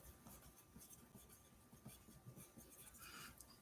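A pen writing by hand on paper during a probability lesson, a faint, continuous scratching and rubbing of strokes that ends in a sudden louder knock.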